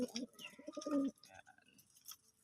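Pigeons coo in low, throaty murmurs up close, with a few chirps and rustling mixed in as the cooing fades out.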